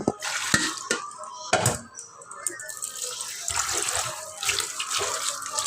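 Vegetables for a mixed-vegetable fish curry being washed under a running tap, steady splashing water with knocks and handling noises close by, and someone talking over it.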